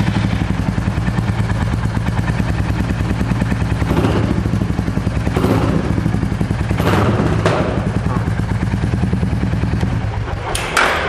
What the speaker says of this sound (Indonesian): Bisa didengerin suaranya dari knalpot yang sudah diganti ya.